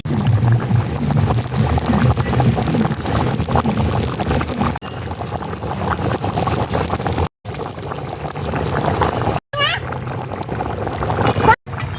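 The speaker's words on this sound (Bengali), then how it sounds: "এবার আমি জল দিয়ে দিচ্ছি আমি আরও পাঁচ মিনিটের মতন আলুটাকে সিদ্ধ হতে দেবো" Water is poured into a pan of boiling potatoes with a loud, continuous rushing splash, then bubbling and cooking noise follows, broken by a few short gaps.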